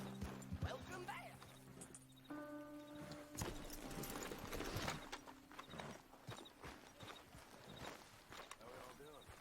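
Horse hooves clip-clop steadily in a Western open-world game while riding, joined by a brief neigh, background music and spoken voices over the top.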